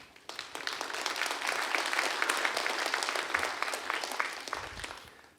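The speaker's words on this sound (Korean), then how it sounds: "큰 박수로 환영하겠습니다." A church congregation at a dawn New Year revival service gives a warm, sustained round of clapping that swells quickly and holds steady before fading out.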